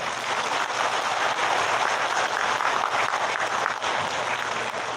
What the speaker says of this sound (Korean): 여러분 고맙다는 뜻으로 최재형 군수님을 비롯한 윤대성 의원님과 군의원님들께 다시 한번 큰 박수 쳐주시기 바랍니다.